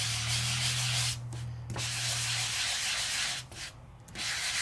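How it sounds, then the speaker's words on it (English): A sanding block rubs back and forth across a die-cut card topper, producing dry, scratchy strokes with short pauses between passes, close and fairly loud. "And I take my sanding block"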